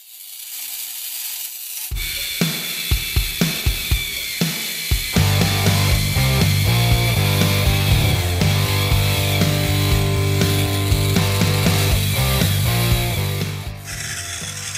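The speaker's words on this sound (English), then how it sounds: "after locating each end of the crack, I'm just partially drilling into there to help prevent it from cracking any further" Rotary tool drilling partway into the ends of a crack in a metal engine block, a steady close, loud whine with rasping grind, starting after a quiet opening and running continuously with brief bites and rattles.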